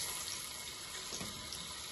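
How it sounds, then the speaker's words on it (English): Water poured into a pan of pork frying in vegetable oil makes a steady, close, hissing rush with a faint sizzle that stays even throughout the short moment. "And then in here you add water."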